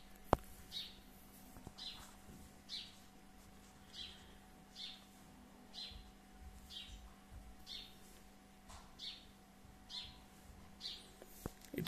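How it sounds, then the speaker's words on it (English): A sparrow chirping seen from behind a glass wall, repeated short bright chirps at a steady rhythm of roughly one per second, faint and distant over a quiet hum. "It keeps on chirping."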